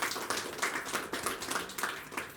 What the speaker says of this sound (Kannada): ನಮಗೆ ಜೋರಾದ ಒಂದು ಚಪ್ಪಾಳೆ ಬರಲಿ.